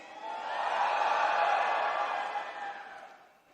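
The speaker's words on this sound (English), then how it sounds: "Can I have a round of shout from the Ola community?" A large crowd of Ola community members at an Ola electric bike launch event shouts and cheers together, a broad sustained roar that swells and then fades away over a few seconds.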